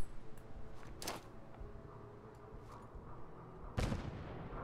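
Grenade blasts in the video game Fallout 4: a sharp burst early on, then one heavy, deep boom near the end over a low, rumbling game background.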